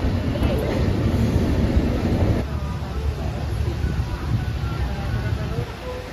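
Train from Delhi toward Ambala Junction running along, a steady rumble and rattle heard from inside the carriage, with people talking over it.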